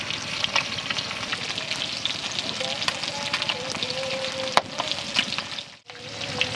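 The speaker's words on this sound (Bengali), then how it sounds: "এটা বড় বড় তো একটু ওলট পালট করে ভালো করে ভেজে নিচ্ছি" Large bhetki fish bones fry steadily in hot oil in a pan, a dense continuous sizzle close up, with a few clicks and knocks as the pieces are turned.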